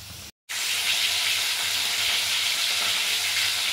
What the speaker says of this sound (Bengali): এখানে বিট গাজর ভাজা প্রায় হয়ে এসেছে